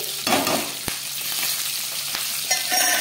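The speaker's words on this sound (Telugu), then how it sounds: "పచ్చిమిర్చి అయితే బాగా ఫ్రై అయిపోయింది." Cumin seeds and green chillies fry in hot oil in a kadai, giving a loud, close, steady sizzle with crackles and a stirring scrape, and no one speaks.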